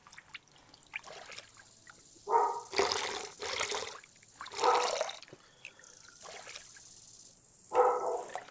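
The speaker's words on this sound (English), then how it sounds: "So pour that water out." Water trickles and pours out of a gold pan in Gold Mining Simulator 2, coming in several short, fairly faint splashing bursts separated by quiet gaps.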